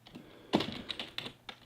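A terminal command typed on a computer keyboard, a short burst of about six or seven quiet, close key clicks in an uneven rhythm, with no voices.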